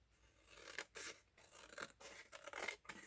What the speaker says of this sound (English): I'm going to cut the flaps off this one